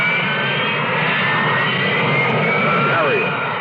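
Harrier jet aircraft engine roaring at a steady, loud level, a continuous broadband whine with a faint pitch sweep near the end, heard under what may be narration.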